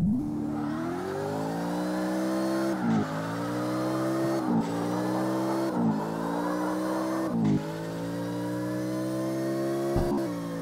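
A Hoonicorn Mustang in CarX Drift Racing 2 launches in second gear with no boost, its engine revving hard and climbing in pitch, broken by several sharp dips as it shifts up repeatedly, loud and close with no talk.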